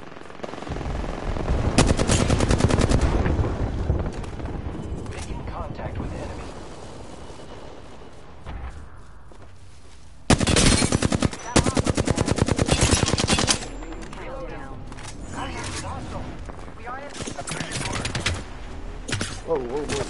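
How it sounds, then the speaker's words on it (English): Enemy gunfire in a video game, with several bursts of rapid automatic fire, including a long loud burst in the middle, interspersed with quieter shots and game sounds. "The enemies are shooting at me."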